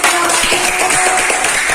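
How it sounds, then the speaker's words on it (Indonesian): Classroom applause for a student group that has just finished presenting, a dense, steady patter of many hands clapping at once, sustained evenly throughout. "Oke, silakan beri tepuk tangan dulu kita maju."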